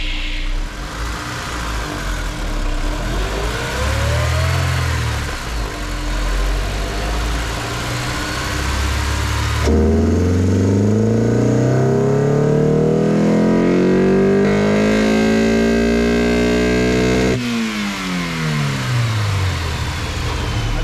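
A Honda S2000 engine with a broken rocker arm, not engaging VTEC, drones loudly on a third-gear run, then climbs steadily in pitch as it revs hard, and its pitch drops sharply at the end, with no talking.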